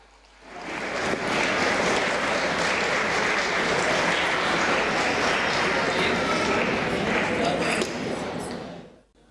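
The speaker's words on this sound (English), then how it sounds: "Let us all give a huge round of applause for all the performers." Audience applause for the performers of a theatrical play reading, a full, dense burst of clapping that starts abruptly, holds steady and loud for about eight seconds, then fades out.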